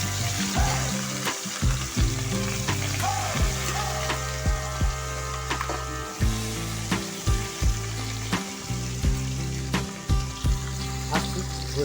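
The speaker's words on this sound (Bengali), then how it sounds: "তারপর মাছগুলোকে আস্তে আস্তে ভেজে নেবো" Small fish (bata) frying in hot oil in a wok over a home stove, a steady crackling sizzle broken by repeated clanks and knocks of a utensil, with no talk.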